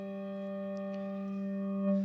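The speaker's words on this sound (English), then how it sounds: "this is a handbell" A bronze handbell tuned to G rings once and sustains a clear, overtone-rich tone, steady and close, with a faint touch near the end.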